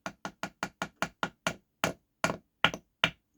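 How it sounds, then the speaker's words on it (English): A small hammer lightly taps wooden trunnels into a Flying Fish clipper ship model: a quick run of even, crisp knocks, then slower, spaced, slightly firmer taps, close and isolated against silence. "The hammer bounces off when it's in there solid."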